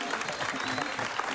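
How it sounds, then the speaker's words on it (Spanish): A comedy-show audience applauds for the Dominicans, a dense steady clapping that fills the room for a brief moment, with a voice faintly mixed in. "Así que aplauso para los dominicanos."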